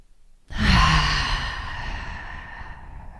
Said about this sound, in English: so let's do one more inhale